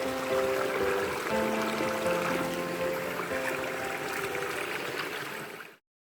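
A forest stream in Khao Yai, near the Pha Diao Dai cliff, flows with a continuous soft rushing and trickling wash, with thin steady tones of insects or birds above it, before fading out abruptly.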